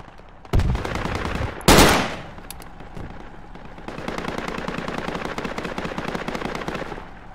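Gunfire in Project Reality: two loud, close shots early on, then a long stretch of rapid automatic fire that sounds more distant and rattles steadily to the end.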